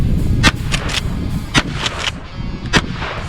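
A shotgun fires Winchester buckshot mini shells outdoors. Several sharp, loud blasts come in an irregular volley over a few seconds, with no talking between them.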